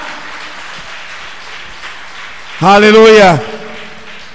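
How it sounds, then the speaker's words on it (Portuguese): Church congregation applauding to the Lord, a steady background patter of clapping under a loud shouted exclamation from a preacher partway through. "Se você crê, você pode aplaudir ao Senhor."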